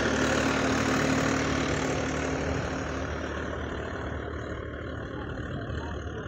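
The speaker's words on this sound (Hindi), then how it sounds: "तो स्वराज 855 आई के फर्स्ट में, इसका परफॉर्मेंस चेक करते हैं ट्रैक्टर का।" Swaraj 855 tractor engine running steadily in first gear at 1600 RPM, a loud, continuous diesel drone that holds even throughout with no talk over it.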